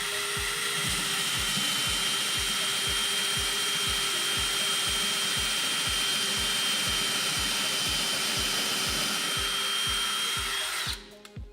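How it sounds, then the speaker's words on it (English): A power drill bores into a wooden wall stud while a floating shelf is installed, giving a loud, continuous whine with a fast, regular pulsing, then cutting off abruptly at the end. "So I should be good to drill anywhere, ideally in the center."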